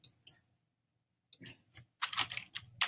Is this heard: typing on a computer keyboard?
yes